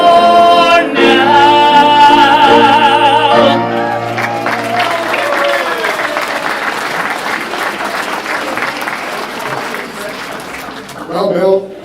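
Audience applause after songs at a dinner entertainment event, arriving as music ends; sustained crowd clapping fills most of the stretch, fairly loud, with a swell near the end.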